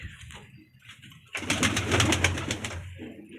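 Pet pigeons kept in a loft give soft, low cooing, quiet at first and then joined by a louder burst of rustling and flapping for the second half.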